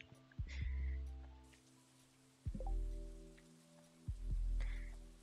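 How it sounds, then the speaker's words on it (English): Green rain falls in the Stardew Valley video game, a soft, steady patter beneath looping game music with low, repeating tones. "Don't touch the green rain."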